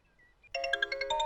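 A mobile phone places an outgoing call: a couple of faint soft tones, then a louder repeating melodic ringback chime with bright, steady pulses, heard close and alone.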